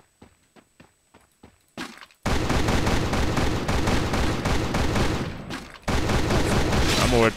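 Video game gunfire in Free Fire: a few sharp footsteps or taps, then a sudden loud, sustained rattle of rapid gunfire with a short pause before it resumes.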